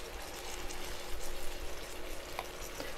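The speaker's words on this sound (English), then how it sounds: "we're just going to whisk this together" Cornstarch, milk and apple butter whisked together in a bowl, making a steady, soft swishing hiss that runs unbroken and close, with no voices.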